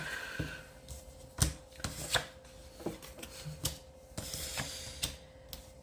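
Tarot cards shuffled by hand for a reading, a quick run of soft irregular slaps and riffles, close and quiet, with no talking.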